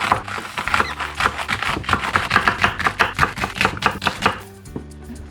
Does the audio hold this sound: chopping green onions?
yes